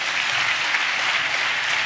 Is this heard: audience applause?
yes